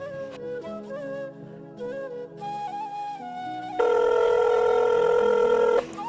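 A telephone rings unanswered, a steady electronic ring tone that grows loud and sustained over soft background music, then cuts off near the end.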